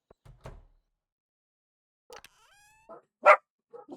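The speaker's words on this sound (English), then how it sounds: "they were my doggos barking" Dogs bark in short, sparse bursts, a few sharp yelps near the start and a louder bark later, with a faint tonal squeak in between over near silence.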